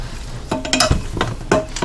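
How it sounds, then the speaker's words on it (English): Meat browns in a pressure cooker for chili, sizzling and frying with scraping stir strokes and clinks of a utensil against the pot in short close bursts, no talk. "Get the sizzle back."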